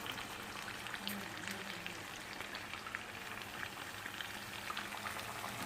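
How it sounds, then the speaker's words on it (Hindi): Butter with cloves and cardamom sizzles and crackles steadily on a hot coal for smoking a chicken karahi, a dense continuous hiss with fine popping, close and even throughout. "ये लौंग इलायची और मक्खन के साथ हम कोले में धुनी दे रहे हैं।"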